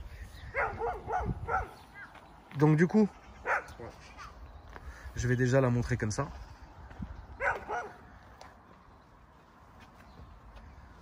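A dog barks in a few short, sharp bursts nearby, spaced apart, mixed in with someone speaking French.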